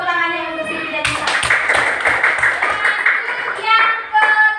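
Classroom clapping for two students, a burst of hand claps from a group of children lasting a few seconds, framed by a teacher's speech before and after.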